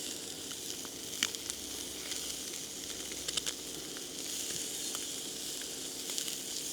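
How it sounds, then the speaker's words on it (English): Food fries on an induction cooker with a soft, continuous sizzle and hiss, with occasional faint clicks as it is stirred, all fairly quiet against a steady fan whir. "Right, let me give it a stir."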